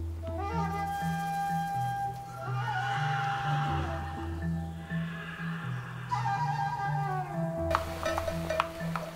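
A Pottok pony neighs out in the mountains, a long, loud whinny with shifting, quavering pitch that rises and falls over several seconds before ending in a few snorting bursts, heard alone.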